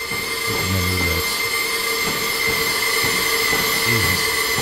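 Train wheels squealing on a curve as the train turns away, a sustained high metallic screech with steady whining tones, joined by low rumbling rail thumps near the start and end.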